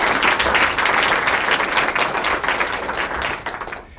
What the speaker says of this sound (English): I'd like you to give her special applause while she walks to the stage